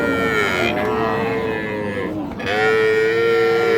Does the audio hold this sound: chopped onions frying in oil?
no